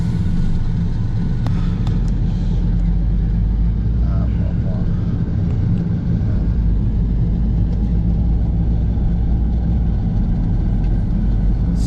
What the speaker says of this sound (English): So we're having this car, we're gonna be driving